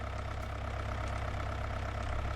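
A tractor engine idling in Farming Simulator 19, a steady low diesel rumble with a constant drone, moderately loud and alone without talk.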